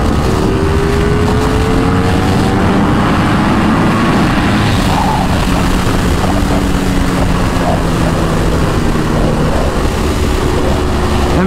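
Ducati Superleggera V4 motorcycle engine accelerating while ridden, a loud continuous high-revving roar with rising harmonic whine and heavy wind rush, steady throughout.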